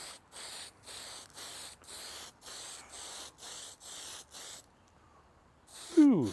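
An airbrush sprays paint onto a Revell 1971 Mustang Mach 1 model car body in a run of about eight even, close hissing bursts with short pauses between them, followed by a brief quiet stretch and a sharp squeaky sound at the end.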